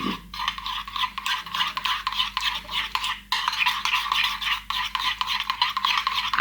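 A dessert spoon stirring a honey, garlic and parsley marinade in a bowl, repeated scraping strokes in a steady rhythm, close and clear with a short pause midway.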